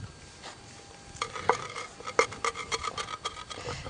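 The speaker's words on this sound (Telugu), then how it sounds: "ఒక రెండు చెంచాల ఆవాలు దంచు" Mustard seeds pounded by hand, a series of sharp knocks and clinks that start after a quiet moment and repeat in an uneven rhythm, close and alone.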